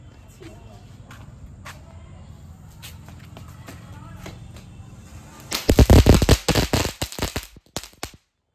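Firecrackers burst in a quick, loud, crackling cluster of sharp pops after several seconds of quieter background with faint scattered clicks, then stop abruptly.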